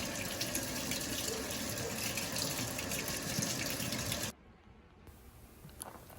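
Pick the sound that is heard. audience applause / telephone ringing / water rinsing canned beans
water rinsing canned beans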